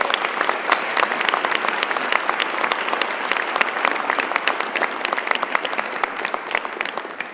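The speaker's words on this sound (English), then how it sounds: "Give her another round of applause." Audience at a 2019 nonprofit awards luncheon in Chicago claps steadily, a dense crackle of many hands sustained throughout at an even, fairly loud level.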